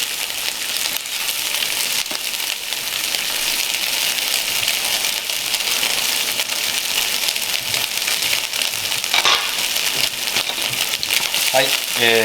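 Precooked bacon frying in a pan for a soufflé omelet gives off a dense, even crackling sizzle that carries steadily throughout, close and moderately loud, with a few faint clinks near the end.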